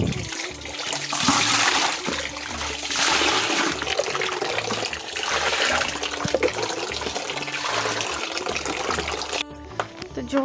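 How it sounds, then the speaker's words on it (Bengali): Water pouring from a tap into a bucket outdoors in a village, a steady loud gushing rush that continues throughout, with faint background sounds and brief voice traces. "জল এক বালতি নিয়ে গেছি, আর ওই দেখো এখানটায় ভরা হচ্ছে"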